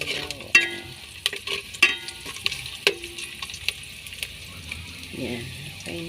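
Garlic frying in a pan, to be joined by chicken for a mung bean dish, gives a soft sizzle under repeated stirring clinks and scrapes, with a few sharper utensil knocks and faint background speech.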